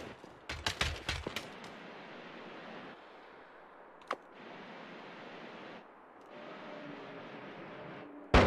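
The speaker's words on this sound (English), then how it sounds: "those are bullets coming down around me" Bullets rain down in the Noita game, opening with a rapid cluster of sharp cracking shots, followed by one isolated crack and a continuous hissing noise bed.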